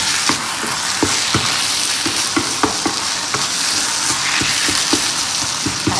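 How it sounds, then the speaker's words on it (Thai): Pork stir-frying in a wok for Thai nam prik ong gives a steady, loud sizzle, with a spatula scraping and tapping against the pan in irregular clicks throughout. "ผัดให้หมูสุกนะคะ"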